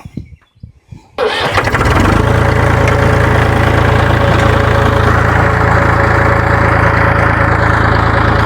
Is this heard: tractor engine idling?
yes